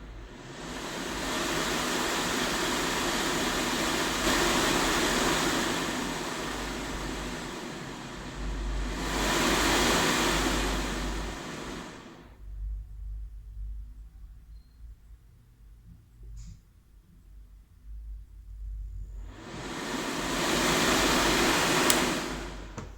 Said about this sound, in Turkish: Gördüğünüz gibi istediğim devirde şu an kontrol edebiliyorum fanı.